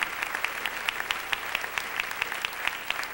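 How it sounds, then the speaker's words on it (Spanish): A church congregation applauds during a sermon with sustained clapping, some hands striking in a steady, almost rhythmic beat over a softer crowd wash. "Denle el aplauso al Rey con todo su corazón"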